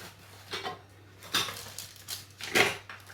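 Dishes and cutlery clatter while fried chicken is moved onto a serving plate, with a few scattered clinks and knocks close by in a quiet kitchen.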